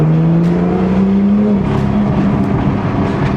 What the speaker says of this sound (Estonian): Heli on selle auto kindlasti üks kõige suurem plusse.